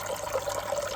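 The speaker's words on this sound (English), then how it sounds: "I'll be able to turn off the sound of that water for a start." Water runs steadily in an aquarium tank holding axolotls, a continuous close trickle and splash with no voices.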